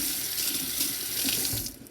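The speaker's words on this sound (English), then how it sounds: "so put a little bit more water back in there." A kitchen tap runs steadily into a pot, a loud, close, continuous hissing gush of water that trails off slightly at the end, with no voices.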